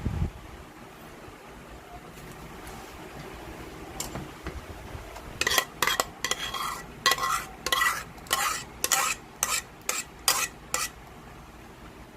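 A ladle stirs through a pot of leche flan mixture, first faint and scattered, then a series of loud, rhythmic scraping strokes near the microphone, with no talking.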